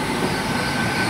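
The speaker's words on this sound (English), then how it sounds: "coming in now is the 1614 Great Western Railway service to London Paddington" A Great Western Railway Class 800 unit running into Bridgend station on a service to London Paddington, a close, steady loud rumble of wheels and engine with no voices.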